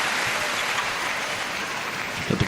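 Steady, dense applause and cheering rises from a crowd at a 2017 World Championships men's singles table tennis match, a continuous wash of many hands clapping at moderate distance, with a few louder bursts near the end.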